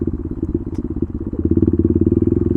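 A KTM Duke 390 motorcycle fitted with an SC Project exhaust, heard on a night ride, a loud close engine burble with a rapid, pulsing exhaust beat that grows stronger partway through, alone with no talk.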